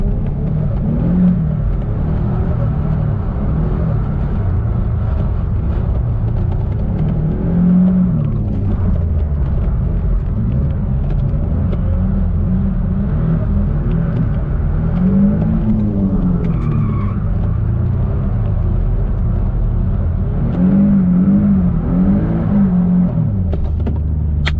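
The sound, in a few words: turbo Nissan 350z drifting, clutch kick in second gear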